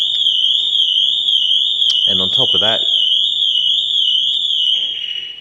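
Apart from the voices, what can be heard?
Pandora Smart Pro car alarm triggered on Abarth 124 Spider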